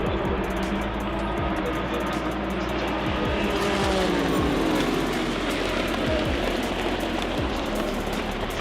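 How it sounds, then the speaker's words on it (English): An Ally Cadillac racing car roars past on the road, its engine note sweeping up and falling away over a constant background hiss like rain. "Down the road, we had the Ally Cadillac racing car."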